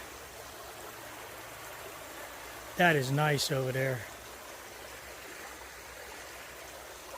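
Creek in a wildlife reserve flowing steadily as a soft, constant wash of running water, with someone speaking briefly over it partway through.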